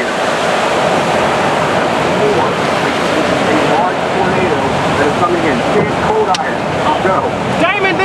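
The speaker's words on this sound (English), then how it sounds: "It's EF4 tornado. Maybe going higher." The roar of an EF4 tornado in Moore, Oklahoma, a loud, continuous rushing wind that holds steady throughout with only slight swells, with no talk over it.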